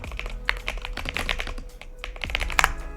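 Rapid, uneven clicking of fingers typing on a computer keyboard, close and fairly loud, with bursts of keystrokes running continuously throughout.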